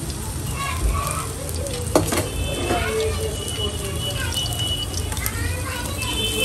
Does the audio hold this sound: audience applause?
no